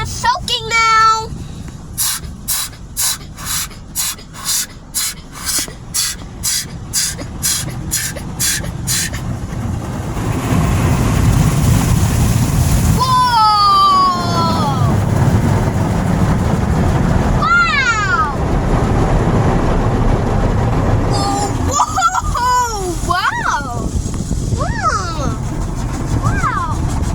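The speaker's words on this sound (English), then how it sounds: "Whoa, we're in the soaking now." An automatic car wash at night during its soaking cycle, with rapid rhythmic bursts at first that give way to a constant loud wash of spraying water. A voice and squeals sound over the water.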